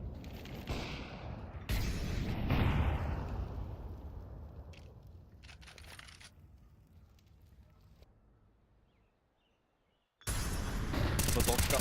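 Bursts of gunfire from a Counter-Strike esports match in the ESEA Open league, loud clusters of shots near the start and end with a quieter stretch between, under no spoken words.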